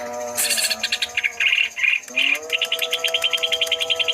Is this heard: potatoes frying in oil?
no